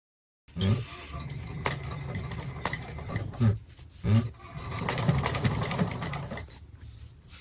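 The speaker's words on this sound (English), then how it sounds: "let's go ahead and sew that in place" A sewing machine stitching the lining pockets of a shoulder bag runs in a steady, close mechanical whir, pausing briefly a few times before it resumes.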